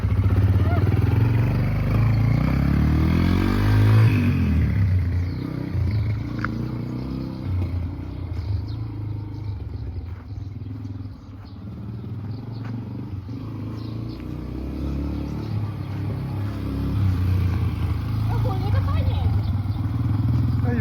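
An air-cooled, two-valve Yamaha TT-R125 motorcycle idles softly in a yard, a low steady engine putter running throughout with a brief rev early on, while people talk over it close by.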